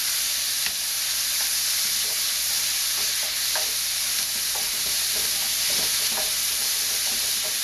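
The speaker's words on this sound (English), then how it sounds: "we still want to keep going because we want these pieces to brown." Loud, steady sizzling of meat pieces frying and browning in a pan for kimchee fried rice, with occasional stirring scrapes and pops over the continuous hiss, close and uninterrupted by talk.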